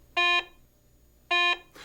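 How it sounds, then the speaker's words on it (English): Two low, steady electronic tones sound from a Garrett Ace 250 metal detector as it passes over iron and nails, each about a quarter-second long with a pause between, loud and clean against a quiet background. "Iron and nails produce this low-pitch audio signal."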